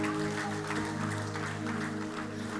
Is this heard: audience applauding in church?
yes